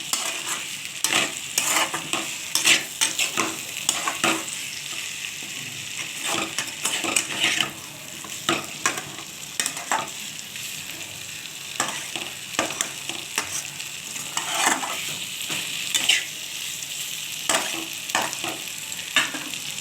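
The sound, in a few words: chicken with potatoes being stir-fried in a pan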